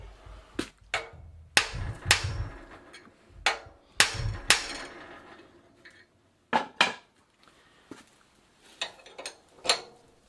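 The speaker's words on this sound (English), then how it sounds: "And now I'm going to give it a little dab with a hammer." A hammer taps a bicycle crank arm on a Phoenix Mentor bicycle during crank removal: about a dozen sharp metallic knocks in irregular groups, close and fairly crisp, with short pauses between them.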